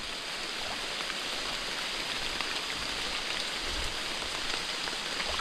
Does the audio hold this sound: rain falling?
yes